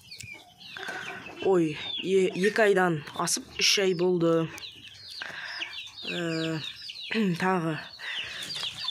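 Hens and two-month-old chicks cluck and chirp in a farmyard, with repeated close clucking calls and high peeps between bursts while someone talks over them.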